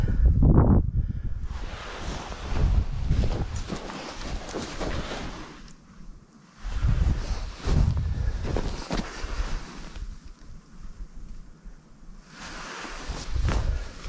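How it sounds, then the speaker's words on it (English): Wind buffets an outdoor microphone in snowy country where a rabbit snare is being set, a continuous rumbling roar with strong gusts and brief lulls, no voices. "Apologize for the wind"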